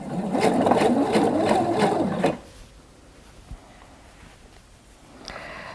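A sewing machine stitches around the center focus of a dress with a fast, loud whirring rhythm for about two seconds, then stops, leaving quiet handling noises.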